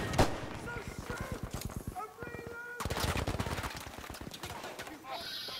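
Rapid machine-gun fire in the shooter game Battlefield V, fast regular bursts close and loud, pausing briefly before resuming amid other battle noise.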